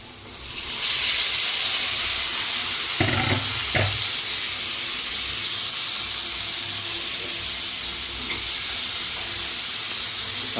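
Chicken pieces hitting a pan of fried onions and chilies, rising into a loud, steady hiss and sizzle with a few thumps as the meat goes in, close and sustained.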